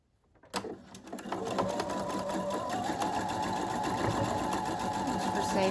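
A sewing machine stitches across a seam, starting with a thump and then running in a steady, continuous close whir that holds for several seconds with no talking.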